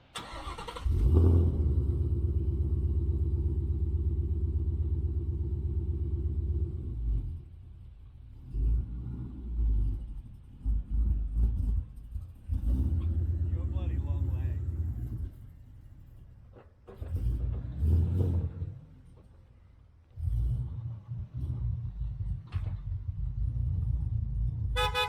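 A Ford Mustang pulls away from a workshop, its engine rumbling loud and close with repeated revs in surges, dropping back between bursts, and a short horn-like toot near the start.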